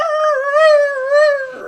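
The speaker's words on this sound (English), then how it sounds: "They're howling in pain as their senses are being attacked by this noxious odor" Beasts howl in pain as a sound effect: a close, loud, sustained wavering cry, the pitch gently rising and falling across the whole stretch before trailing off in a rougher tail.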